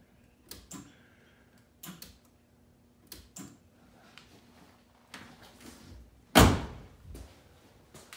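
Shutter flaps in HID projector headlights retrofitted to a 1992–95 Honda Civic shift when the high beam comes on. Faint, sparse mechanical clicks and small thunks sound at irregular intervals, with one louder clack near the end.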